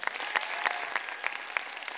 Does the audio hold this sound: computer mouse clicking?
no